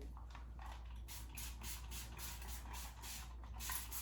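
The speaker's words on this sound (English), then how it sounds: "Just gonna spray it with some water." Repeated short hissing spritzes of water from a spray bottle onto hair, about a dozen quick bursts in a steady rhythm over a low background hum.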